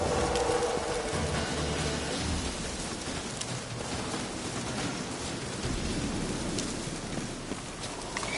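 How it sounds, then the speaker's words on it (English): Steady rain pours in The Witcher 3 game world, a dense continuous hiss of drops on surfaces with faint distant thunder, heard alone without talking. "Looks like rain."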